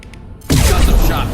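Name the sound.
gunfire in Mass Effect 2 video game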